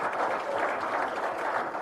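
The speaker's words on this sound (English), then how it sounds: "Give yourselves a round of applause." Audience applause at a motivational talk, a steady broadband wash of many hands clapping that continues evenly for the whole stretch, moderately loud with no talking over it.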